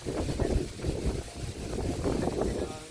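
Heavy, gusting wind before a typhoon buffets the microphone in a continuous low roar, with faint voices underneath.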